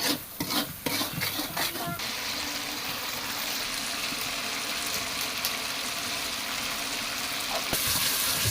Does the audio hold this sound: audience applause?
no